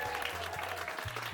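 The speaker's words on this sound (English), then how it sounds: "Round of applause." Audience applause at a cabaret show, a dense steady wash of clapping filling the whole moment, with low voices murmuring underneath.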